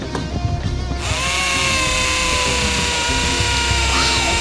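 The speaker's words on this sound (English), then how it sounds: "let's screw those wheels in" A screwdriver drives screws to fix wheels in place: a loud, close, steady motor whine starts after a moment of rattling handling and runs continuously to the end.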